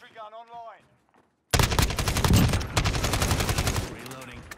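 Sentry gun in a shooter video game opens fire with a loud, rapid burst of automatic shots right after a brief voice line, then the firing tails off.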